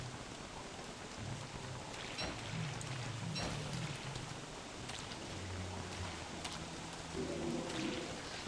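Steady rain from a lunar frog rain in a game, a soft continuous patter and hiss with low tones underneath.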